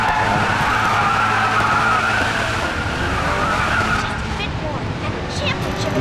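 Race car in the Racing Master video game braking hard, a long loud tire skid and squeal over engine noise that tapers off toward the end, with a voice talking over it.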